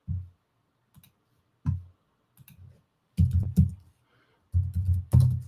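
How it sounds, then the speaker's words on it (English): Fingers tap on a computer keyboard in scattered bursts of a few keystrokes, close and fairly quiet with short pauses between them and no talking. "I'm typing to Kathryn and Zach saying, join me."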